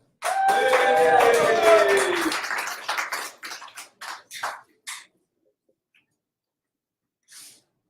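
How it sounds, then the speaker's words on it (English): At a poetry slam, the crowd greets a performer coming to the stage with a loud whooping cheer over clapping, which quickly thins to a handful of scattered claps and then fades into near silence. "y'all give a round of applause for Coco Flo."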